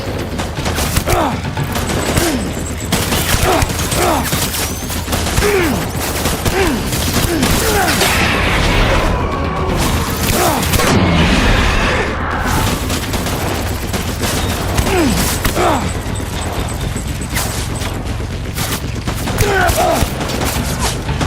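Heavy, sustained gunfire in the video game Death Stranding: a dense, continuous rattle of overlapping shots and impacts throughout, loud and close, with occasional voices shouting beneath the barrage.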